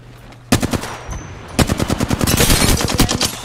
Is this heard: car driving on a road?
no